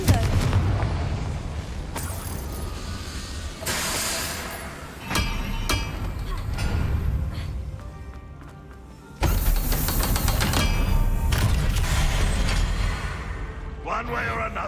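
Fiery spell blasts from the Confringo curse in Hogwarts Legacy burst repeatedly over game music and clatter, several loud broadband booms spread across the scene, with speech mixed in.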